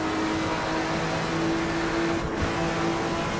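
Porsche 935 Moby Dick race car engine at a steady high drone on track in Assetto Corsa, loud and constant with a faint dip near the end, no voices.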